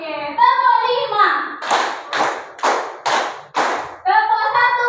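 Children clap hands on a counted cue, five sharp group claps in steady rhythm between bursts of close child and adult speech.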